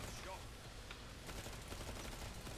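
Rapid gunfire from a gun in the zombie shooter Killing Floor 2 crackles in a dense, steady fusillade, fairly faint and mixed with game noise and voices.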